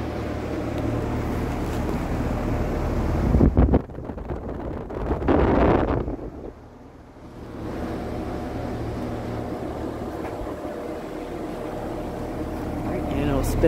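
Vintage Sears Homart belt-drive window fan running on high, a steady loud whooshing roar with a low hum, interrupted by a brief dip and rustle midway before resuming.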